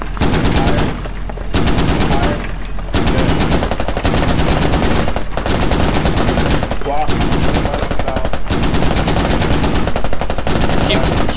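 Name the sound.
gunfire from a vehicle-mounted gun in a video game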